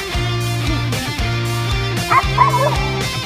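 A dog barks repeatedly at close range in a quick, steady rhythm, with a few higher yips near the end.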